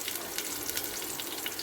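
Chopped onion goes into hot oil already holding whole cardamom, cinnamon and bay leaf, giving a soft, steady sizzle with faint crackles, heard alone and close.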